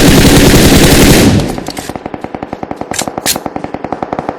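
Rapid automatic gunfire in the mobile battle-royale game PUBG Mobile, a dense loud burst giving way to a steady run of evenly spaced sharp shots, with a couple of brief higher metallic accents near the end.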